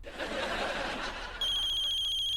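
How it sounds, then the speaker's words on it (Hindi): A mobile phone rings during a domestic comedy scene, a steady electronic ringtone with bright repeating tones cutting in loudly after a stretch of noisy background chatter and laughter. "फोन बज रहा है मेरा"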